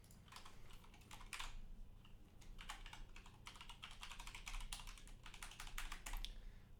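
Rapid clustered taps of someone typing on a phone while sitting outdoors in the sun, coming in uneven bursts with short pauses, close and soft over a low steady background hum, with no voices.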